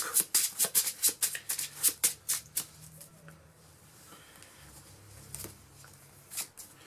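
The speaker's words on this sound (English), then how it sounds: "So I'll add the Blaster Blade Exceed from my deck to my hand and shuffle the deck." A deck of Cardfight Vanguard trading cards is shuffled by hand in a quick series of crisp, rhythmic card slaps and riffles up close, thinning out into quieter handling after a few seconds.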